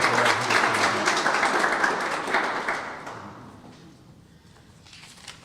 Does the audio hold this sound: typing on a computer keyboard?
no